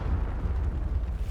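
In the Hogwarts Legacy game, the Confringo blasting spell goes off in a short, dense explosive rumble, loud and close, heavy in the low end, lasting about a second, with nobody talking over it.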